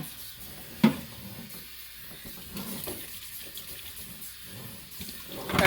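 Tap water runs steadily into a kitchen sink as chicken is rinsed, a soft, even hiss with a brief knock near the start and a louder splash at the end, with no talking.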